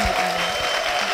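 A Korean church congregation applauds, a short, dense burst of steady clapping heard up close.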